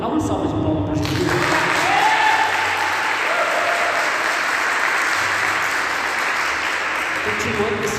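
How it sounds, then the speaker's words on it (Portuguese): A church congregation gives sustained applause for Jesus during a sermon, a dense wash of clapping that holds steady for the whole stretch, with a preacher's voice and other voices over it at times. "dá uma salva de palmas para Jesus"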